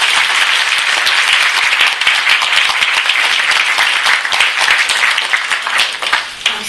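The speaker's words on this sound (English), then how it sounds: "can we get a big round of applause for all of us?" A large audience applauds a discussion panel with dense, sustained clapping that stays loud and steady from start to finish, with no pauses.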